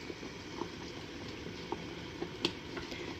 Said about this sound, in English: And I bring it to a rolling boil